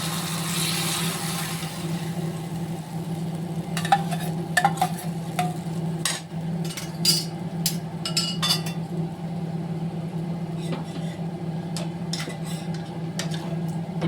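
Ingredients for tamarind kootu fry in a pan with a low steady sizzle, while a spoon scrapes and stirs in scattered clicks and taps, close by with no talking.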